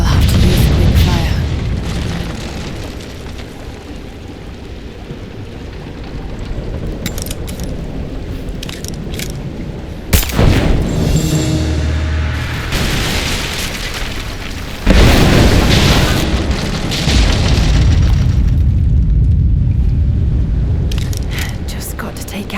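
Explosions from Greek fire vessels blasting the supports of an unstable statue in the video game Rise of the Tomb Raider, two sharp loud booms followed by heavy rumbling debris and crumbling over constant game ambience, with a voice speaking.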